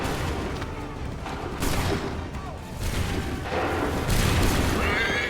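Musket volleys in the video game Assassin's Creed 3, several booming bursts of massed gunfire in quick succession amid battlefield noise and shouted commands.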